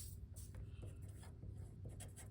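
Pen or pencil writing a name on a paper template for a complex slab project, a soft continuous scratching with short strokes, faint and close, under a steady background hiss.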